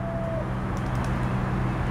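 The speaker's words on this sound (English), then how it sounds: "A bird was talking to me," A pigeon or dove coos low and soft outdoors, steady and fairly close, over a constant background hum of traffic or wind.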